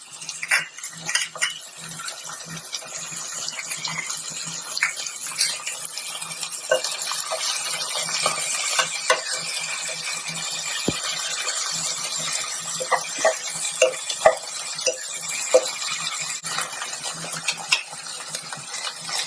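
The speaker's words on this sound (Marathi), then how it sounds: "कांदा गुलाबी झाला आहे आता मी त्यामध्ये टोमॅटो टाकते टोमॅटो टाकून झाल्यानंतर मी हा हिरवा मसाला टाकते" Onion fried with tomato and green masala is stirred in a pan for prawn pulao, soft sizzling with scraping spoon clinks and metallic taps against the pan, close up with no talking.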